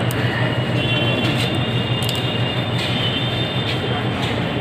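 A train rumbling at Bhagalpur railway station, a loud continuous roar of wheels and carriages with faint metallic clatter and high hiss, close and steady throughout.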